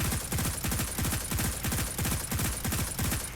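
A Destiny 2 pulse rifle, the Darkest Before, fits in PvP with Targeting and Adjuster mods and fires steady repeated bursts of rapid shots, each burst a tight cluster of punchy, loud reports in a continuous rhythmic pattern.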